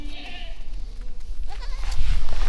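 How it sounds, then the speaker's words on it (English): Goats bleat on a farm, several wavering calls close by, with rustling and handling noise around them and a person's voice nearby. "That right there is a pretty little goat right there though."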